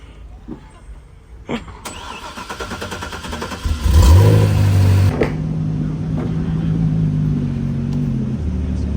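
A supercar unloaded and driven on the road during Monterey Car Week roars into life with a loud engine start and rising revs, then settles to a deep rumbling idle close by, with faint voices nearby.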